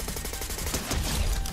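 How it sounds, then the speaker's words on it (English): A submachine gun fires in Fortnite during a close-range rush, giving a brief, rapid stream of muffled shots over about a second and a half. "We're just gonna rush him with the SMG"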